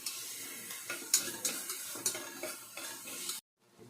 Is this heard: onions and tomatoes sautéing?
yes